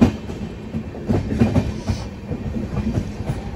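Bangalore to Tirupati intercity express train rolling on rails, a steady low rumble of wheels and carriages with faint clickety-clack rhythm throughout, heard from inside the coach.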